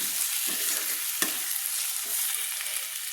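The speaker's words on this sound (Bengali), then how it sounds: "সব কিছু দিয়ে এবার আমি মশলাটাকে কষিয়ে নিচ্ছি, তেলের সঙ্গে কষিয়ে নিচ্ছি।" Ground spices such as cumin frying in hot oil in a kadai for a chicken and egg curry, a steady bright sizzle broken by a few soft scraping stirs of the spoon, close and continuous.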